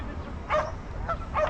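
A dog barks two or three times in short, separate yips over steady low background noise, fairly close and moderately loud.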